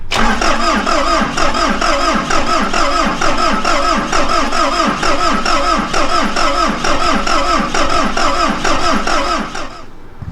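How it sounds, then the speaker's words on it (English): A diesel engine cranks over and over with a steady, rhythmic starter chug, loud and close, straining to catch without fully starting, then cuts off near the end. "We're gonna have one cylinder, I think, start to fire"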